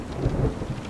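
A brief deep roll of thunder swells and fades over steady rainfall, a muffled, continuous storm sound with no voices.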